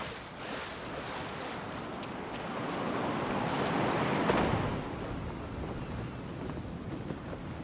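A wind current in the video game Genshin Impact gives off a broad, steady whoosh that swells toward the middle and then settles, like a rush of air heard close up.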